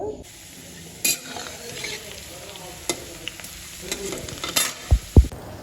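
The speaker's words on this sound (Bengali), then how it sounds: "এখন আলুগুলো ভেজে নেব" Potatoes fry in a pan with a continuous close sizzle, broken by sharp clacks of a utensil stirring and scraping, and a few heavier knocks near the end.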